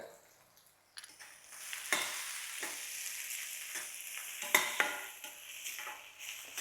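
Kolhapuri chutney masala with turmeric being stir-fried in a pan, a steady close sizzle broken by repeated scraping strokes of a spoon, with no voices.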